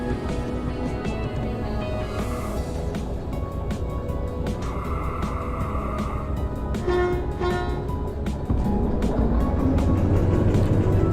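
A diesel shunter locomotive in the Derail Valley train game gives a steady, loud mechanical rumble with scattered clanks and knocks, building slightly louder toward the end.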